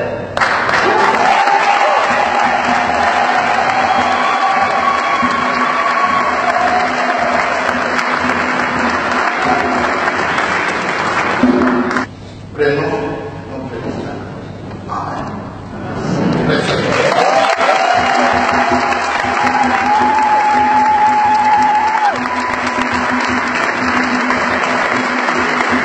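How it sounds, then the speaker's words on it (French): A large crowd of churchgoers applauds in an ovation after Mass: loud, sustained clapping with some cheering, broken by a short lull in the middle before the clapping swells again and continues. "la grande foule des fidèles a tenu à ovationner"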